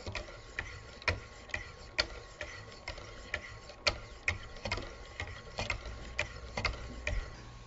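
A Wicked Edge knife sharpener hones a blade on a 1000 grit stone, making quiet, evenly spaced scraping strokes in a steady rhythm, close by and alone.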